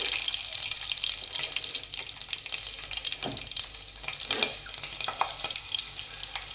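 Slit green chillies and fenugreek seeds fry in hot oil for Nellore fish curry, giving a steady, close crackling sizzle throughout with a few sharper pops and stirring clinks.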